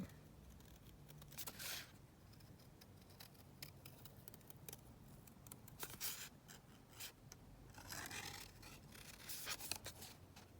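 Scissors snip through paper for a junk journal page, a quiet run of small crisp cuts and rustles spread across the span, close by, with no talking.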